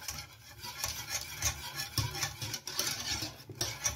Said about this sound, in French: Quand on fouette, on le sent bien